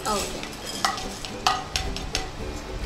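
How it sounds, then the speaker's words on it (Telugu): Fried chana dal scooped from a pan into a bowl: a few sharp scraping and clinking strokes of a spoon against metal over a faint sizzle. "వేయించుకున్న శనగపప్పుని ఒక బౌల్లో ఇలా తీసేసుకుంటున్నాం."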